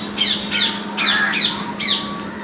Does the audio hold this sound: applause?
no